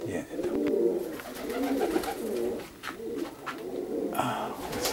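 A flock of pigeons coos in a close chorus, with overlapping soft throaty rolling calls repeating throughout and faint rustling between them.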